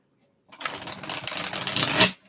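A quick burst of card shuffling, a close riffling flutter lasting about a second and a half, with no talking.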